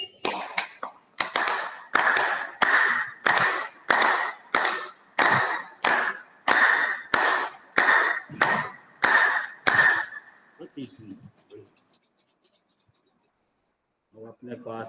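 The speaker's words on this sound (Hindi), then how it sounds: "और बजा लेते हैं ताली।" Rhythmic group hand clapping at a yoga class, about fifteen sharp evenly spaced claps over ten seconds, loud and close, then a quiet pause with faint voices.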